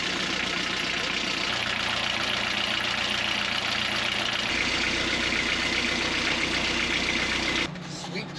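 A boat engine runs steadily at idle to warm its oil during a river passage from Trois-Rivières toward Quebec City, a constant low drone that holds throughout with a brief drop near the end, speech faintly mixed in.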